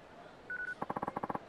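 A mobile phone rings in Yakuza 3: a short steady electronic tone, then a quick run of about a dozen clipped beeps in even rhythm, faint and alone.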